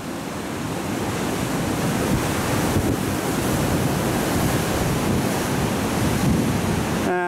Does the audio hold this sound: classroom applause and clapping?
no